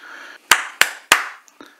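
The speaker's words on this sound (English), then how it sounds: "You just clap 3 times, or whatever pattern you want" Three sharp hand claps ring out at an even pace over a low background hum, followed by a couple of fainter taps.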